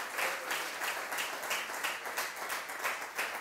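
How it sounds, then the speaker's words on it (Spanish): Church congregation applauding steadily, a dense patter of many hands clapping at moderate distance with no talk over it. "Un fuerte aplauso al Señor"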